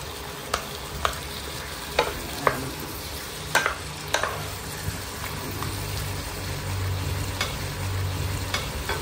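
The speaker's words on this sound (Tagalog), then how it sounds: "Mash-mash lang natin ng konti para mag-release ng kanyang juice" Ripe tomatoes for pinakbet are mashed and stirred in a pan, sharp spoon knocks and scrapes landing every second or so over a soft simmering sizzle and low rumbling hum, close-up with no one speaking.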